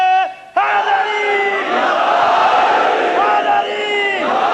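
A large crowd at a religious gathering bellows the devotional slogan "Haidari" in loud, sustained unison shouts that swell and hold after a brief pause, with voices rising together close by.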